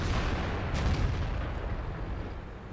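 A tank cannon shot in a World of Tanks battle replay, a heavy low boom with a rumbling tail that rolls on over steady battlefield noise.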